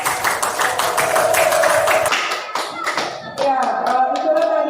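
A classroom group claps for their peers, with brisk, fairly close hand claps running throughout amid voices.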